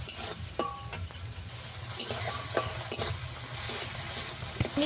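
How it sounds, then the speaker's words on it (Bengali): Shrimp frying in oil in a pan, with a continuous moderate sizzle and a few sharp clinks and scrapes of a utensil against the pan, heard close with no talking. "এই চিংড়ি মাছটা আমি দুটো রেসিপিতেই দেবো, তাই ভেজে নিচ্ছি।"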